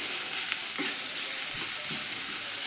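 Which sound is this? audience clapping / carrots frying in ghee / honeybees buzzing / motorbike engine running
carrots frying in ghee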